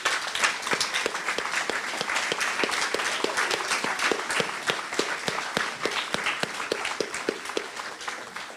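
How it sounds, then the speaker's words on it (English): An audience at an NAACP jubilee celebration claps steadily and warmly. The applause is dense and even, with sharp individual claps standing out near the front, and it carries on for the full length before easing slightly at the end. "I want them to be given a great round of applause"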